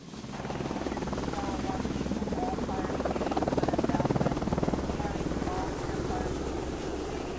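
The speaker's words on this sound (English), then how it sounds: "Firefighting helicopter." Steady, loud rotor chop of a helicopter droning throughout, a thick mechanical roar with faint voices mixed underneath.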